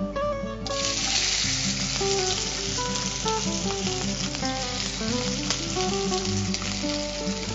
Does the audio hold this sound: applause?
no